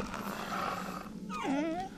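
A wolf dog in the video game Metal Gear Solid The Twin Snakes lets out a short whine with a falling pitch, then a rising one, after a faint, growly stretch, close and brief.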